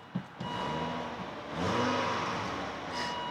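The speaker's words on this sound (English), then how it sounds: "if I hit the gas, look at that, I let off the gas, it takes forever to come back down" A Volvo car engine with a faulty electronic throttle module revs up sharply, holds a loud roaring pitch, then winds slowly back down toward idle, close by with no talking.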